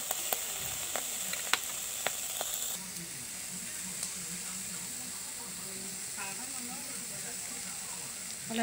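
Three pieces of fish sizzle in a hot wok on a gas stove, a low steady hiss with a few sharp crackles and pops early on, then quieter frying until the end.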